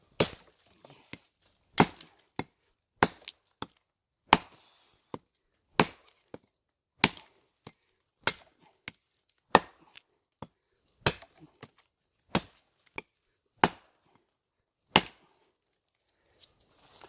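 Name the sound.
kukri knife chopping spruce wood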